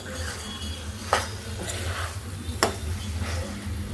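Chili powder being stirred into a capsicum and potato masala in a pan: a couple of spoon scrapes against the pan over a low continuous sizzle.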